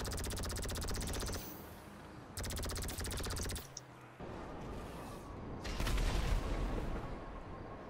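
Bursts of rapid automatic gunfire from a shooter video game, rattling in loud sustained volleys separated by brief lulls, with dense crackling impacts throughout.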